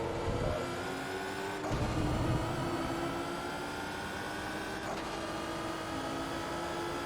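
A race car in Forza Motorsport 2 accelerating out of a hairpin, a steady engine whine rising through gears with brief shift breaks, loud and continuous against game noise, no talk.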